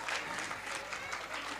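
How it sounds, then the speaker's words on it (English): Faint, steady applause rises from the audience at a children's Balotsav festival for the devotee performers, a soft wash of many hands clapping in a hall. "A big round of applause for this wonderful devotees."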